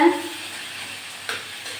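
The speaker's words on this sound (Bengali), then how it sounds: "আরও কিছুক্ষণ ভাজি ভাজি করে নেব" Bottle gourd with garlic and green chillies frying in a pan gives a brief, soft sizzle with a stir or scrape, the sound fading to a quiet hiss.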